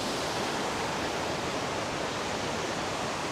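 A waterfall on the Napittachhora trail roars as a constant, broadband wash of falling water, loud and unbroken, with no voices present.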